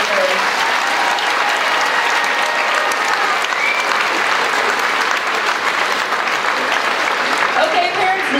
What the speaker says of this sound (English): another round of applause for those kindergartners